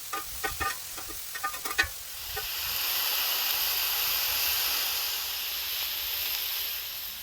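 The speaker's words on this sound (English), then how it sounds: "we're going to let that sit so that it develops a nice little sear on that side" A few quick scrapes and clinks, then a loud, steady sizzle of venison steak searing in a hot pan.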